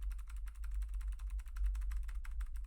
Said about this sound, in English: the keyboard right here, you can hear it right there